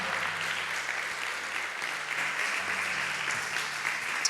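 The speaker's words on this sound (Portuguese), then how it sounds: "Aplauda ao Senhor Jesus e glorifique o nome dele." A church congregation applauds at an evening service, steady dense clapping sustained throughout with a low hum underneath and no clear speech.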